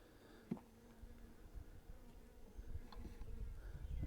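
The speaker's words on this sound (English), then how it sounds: "I got a bee crawling around on my veil." Honey bees buzzing during a hive inspection, a faint, wavering drone with a few louder passes as a bee moves close, over soft handling noises.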